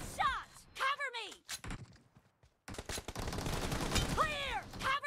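M416 and AKM rifles fire in bursts during a team deathmatch in a shooter video game, with clipped synthetic voice callouts sounding between and over the shots.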